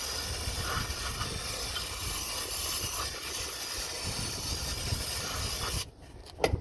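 Aerosol cleaner sprayed during an oil change on a Vauxhall Omega, a steady close hiss of spray lasting several seconds before cutting off, followed by a couple of faint clicks.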